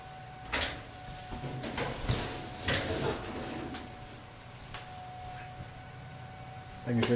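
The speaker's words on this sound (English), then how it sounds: "I'm going to pull the dryer out from the wall just a little bit." Soft thumps and scraping knocks come from a Whirlpool dryer being pulled out from the wall, close and irregular over a low electrical hum.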